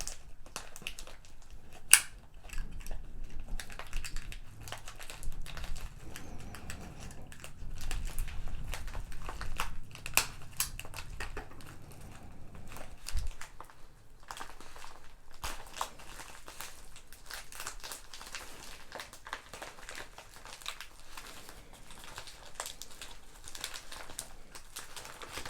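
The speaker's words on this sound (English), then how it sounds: "I cut open something like this that I'm gonna ruin the cards inside" Mystery card deck packaging being cut open and crinkled up close, with quiet snips, scattered crackling rustles and one sharp loud crack, faint and intimate throughout.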